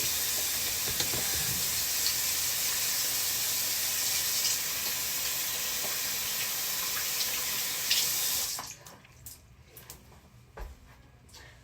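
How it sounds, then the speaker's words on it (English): Water runs steadily from a bathroom tap while hands are washed, a close, even hiss for about eight seconds before the flow cuts off, leaving faint handling noises. "Wash my hands real quick"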